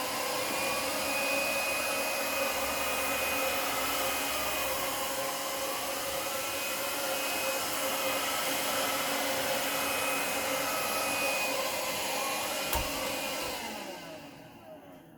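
A Shark Freestyle SV1106 cordless vacuum runs on carpet picking up potato flakes, a steady loud whine and rushing airflow held throughout, with a brief clack near the end before the motor winds down.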